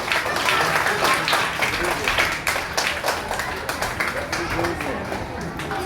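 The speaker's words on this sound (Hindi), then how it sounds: "एक बार इनको भव्य ताली से वेलकम।" A large audience at a school Independence Day celebration applauds steadily to welcome a speaker, a dense, sustained wash of clapping that fills the room.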